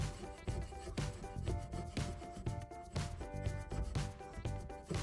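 Chisel shaving the edges off soft spruce or fir wood on a chicken coop build, a run of close, rhythmic scraping and rubbing strokes with sharp wooden knocks between them, no talking.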